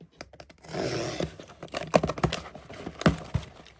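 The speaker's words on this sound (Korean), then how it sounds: "택배 하나 와가지고 뜯어볼게요" A delivery package being torn and opened at home, with crinkly plastic rustling followed by several sharp, close tearing and crackling bursts, loud and irregular with no talk.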